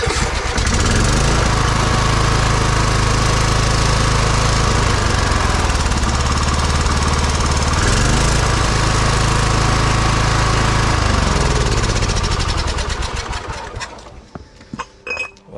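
A Kohler Courage small engine runs after valve repair, a loud steady close-up drone with slight rising and falling in pitch, then it cuts off near the end, leaving brief clinks.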